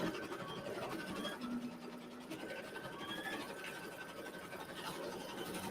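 An embroidery sewing machine stitches out a Halloween-themed quilt design, a steady rapid mechanical whir with faint scratchy needle texture running continuously at moderate level, with no voices.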